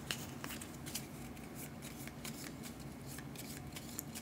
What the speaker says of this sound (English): And then we shuffle up their deck.